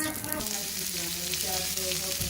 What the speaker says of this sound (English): The onions are frying in the schmaltz.